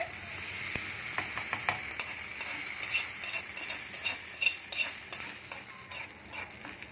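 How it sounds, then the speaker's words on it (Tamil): Cumin, mustard seeds and curry leaves sizzle steadily in hot oil, tempering for coconut chutney to go with upma, with a spoon scraping and stirring the pan in repeated close strokes and no talking. "சீரகம், கடுகு பொரிஞ்சிருச்சு. கருவேப்பிலை போட்டுக்கலாம்."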